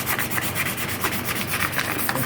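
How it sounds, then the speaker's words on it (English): Fine 500 grit sandpaper rubs back and forth over a metal subframe, a quick run of rhythmic raspy strokes heard close and fairly quiet, with no voices. "Anywhere there's a high spot, I'm sanding it down with a 500 grit."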